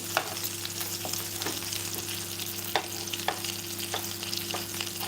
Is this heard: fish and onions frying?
yes